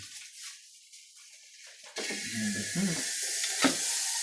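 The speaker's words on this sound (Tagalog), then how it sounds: "Igigisa natin para mas mabango pa siya." Margarine hitting a hot pan and sizzling as it starts to sauté, a faint hiss that swells into a steady, loud frying crackle with a brief sharper spit near the end.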